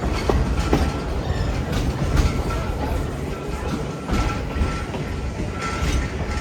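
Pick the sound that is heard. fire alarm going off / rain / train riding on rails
train riding on rails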